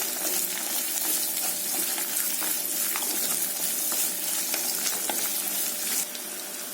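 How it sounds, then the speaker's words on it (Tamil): Finely chopped onion and a green chilli sautéing in a pan for mushroom curry, a dense, loud, continuous sizzle with scattered stirring scrapes and clicks close by, no voices. "இப்போது பொடியாக கட் பண்ண வெங்காயமும் ஒரு பச்சை மிளகாயும் சேர்த்திடலாம். வெங்காயம் நல்லா வதங்கட்டும்."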